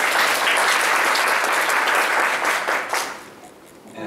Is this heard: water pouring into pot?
no